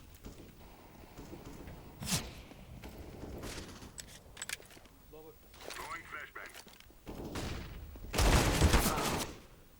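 Gunfire from the video game CS:GO comes in short bursts and single shots, with a heavier volley near the end, all mixed under excited talk between players.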